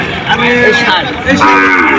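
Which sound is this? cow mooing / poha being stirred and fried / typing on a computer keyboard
cow mooing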